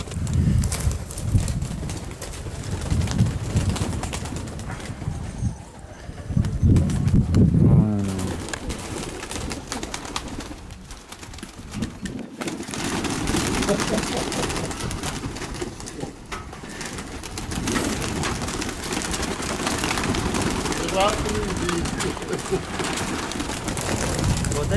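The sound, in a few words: fighting pigeons from Yerevan being tossed and flying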